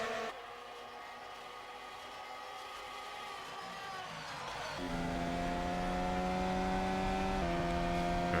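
Onboard a McLaren Formula 1 car at the Las Vegas Grand Prix, the engine holds a high, tonal whine that jumps and climbs through the gears, loud and close, with no talk.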